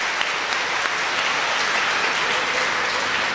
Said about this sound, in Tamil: எந்திரிச்சு நில்லுங்க சார், நல்ல ஒரு கைத்தட்டுங்க